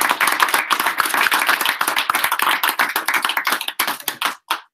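A small group claps at a final presentations event, with distinct, quick individual claps close by that thin out and stop, ending in a last few scattered claps.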